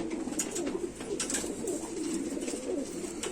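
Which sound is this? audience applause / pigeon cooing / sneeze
pigeon cooing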